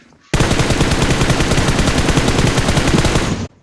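Automatic gunfire in a video game: a loud, unbroken burst of rapid rounds lasting about three seconds, close and dense, starting and stopping abruptly.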